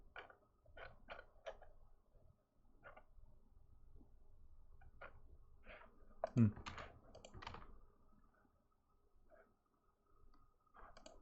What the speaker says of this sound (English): I know I'm typing it right.